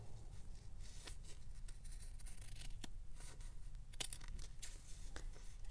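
Scissors snip and trim fabric close by for homemade fabric tape, making quiet, irregular crisp cuts and rustles with no speech.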